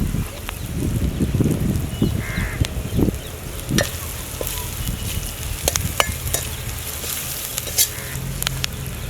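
Fish masala with curry leaves fries in a pan with a loud, continuous sizzle and crackle, while a spoon stirs and scrapes with occasional knocks close by.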